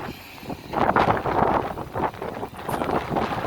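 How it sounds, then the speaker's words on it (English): Gusty wind buffets the microphone in uneven, rough bursts, loud and close, with no voices heard. "It's windy"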